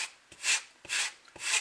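Sandpaper rubbing back and forth on wood from a model ship, three steady, close, raspy strokes in an even rhythm with brief pauses between them.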